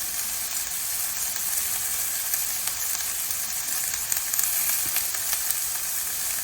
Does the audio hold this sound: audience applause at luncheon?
no